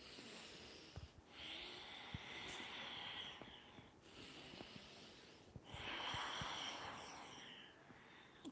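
Slow, deep yoga breaths drawn in and pushed out through the nose during a gentle backbend, soft airy inhales and exhales in long cycles, close and quiet against a faint hiss.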